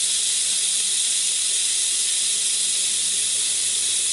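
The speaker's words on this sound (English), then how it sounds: "And that steam's going away pretty quick" Steam rushes out of an Instant Pot pressure valve in a steady, loud, unbroken hiss that lasts the whole stretch, close up, with no voices.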